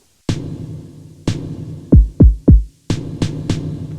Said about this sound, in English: Let's stick a big reverb on that snare.